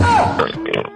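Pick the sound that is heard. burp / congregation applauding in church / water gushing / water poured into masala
burp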